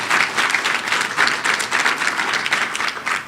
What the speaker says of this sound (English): a round of applause for Dr. Mills.